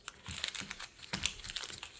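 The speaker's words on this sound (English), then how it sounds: "Going to do a little shuffling of the packs." Sealed Magic: The Gathering Commander Legends collector booster packs are shuffled by hand, giving close crinkly foil rustling and papery flicks in quick, uneven bursts.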